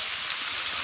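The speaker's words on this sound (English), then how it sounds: "It's raining a little bit." Light rain falls outdoors on a Saturday night, a steady soft hiss of drops on surfaces, fairly loud and constant over a brief stretch with no talk.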